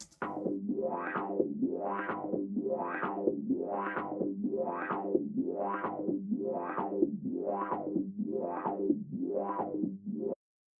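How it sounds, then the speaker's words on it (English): A house synth whose resonant filter is swept by an LFO, producing a steady, even wobble, a repeating wow-wow rise and fall about once per second that runs alone for roughly ten seconds before stopping abruptly. "I've put an LFO on there to give you that kind of sound. And I've turned the resonance up quite a bit"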